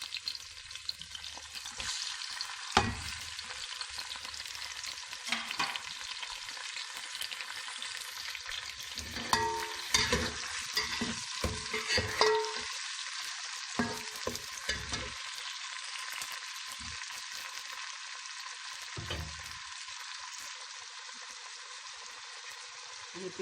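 Tomatoes frying and sizzling in a pan while mixed dal is cooked, a steady crackling sizzle with occasional stirring scrapes and clinks throughout, close and moderately loud with no talk.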